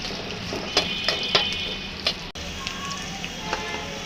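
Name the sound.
chopped onions frying in cooking oil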